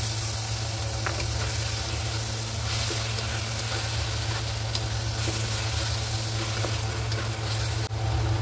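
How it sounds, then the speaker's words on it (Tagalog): Chili sautéing in oil in a pan, a steady close sizzle running unbroken throughout with a low cooking hum beneath, no talk. "So yan, gisa muna natin siya na mabuti. Lagyan na natin yung sili."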